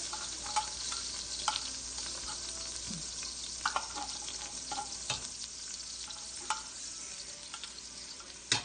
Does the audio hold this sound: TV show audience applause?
no